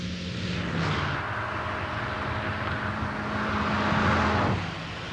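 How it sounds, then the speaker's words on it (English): A test car laps the inner circuit of the Ehra Lessien proving ground, its engine a steady droning roar with a rising tone that swells and then eases off, heard without speech. "Here, the test driver negotiates the inner circuit for the 5th time today."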